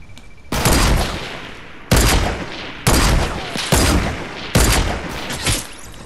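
Fortnite gunfire comes as four loud, close bursts of shots, each a sharp crack trailing off into rapid follow-up fire, spaced about a second apart.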